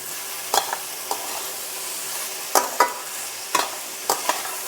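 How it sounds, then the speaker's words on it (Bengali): Sabudana with vegetables and rock salt is stirred in a pan, a soft steady sizzle underneath with several sharp scrapes and knocks of the spoon against the pan at irregular intervals. "দিয়ে ভালো করে নাড়িয়ে নেব"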